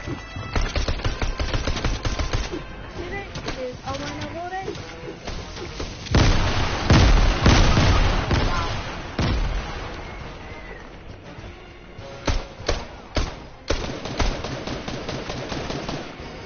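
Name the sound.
gunfire in a video game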